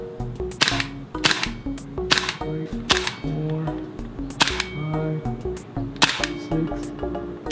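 An airsoft gas blowback pistol fires a string of sharp, close shots at irregular intervals, each a crisp snap with a metallic slide clack, about a dozen in all with quiet gaps between.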